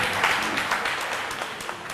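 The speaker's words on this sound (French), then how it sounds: "Il y a également M. Afizou Ganda, merci de l'applaudir." A university debate championship audience applauds the jury president with a continuous, fairly loud wash of many hands clapping, sustained evenly for two seconds without a break.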